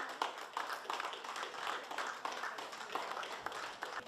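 Hospital care staff at Souillac hospital clap for a departing 63-year-old dialysis patient in a guard of honour, a steady spread of many hands with sharper individual claps, fairly distant and moderate in level.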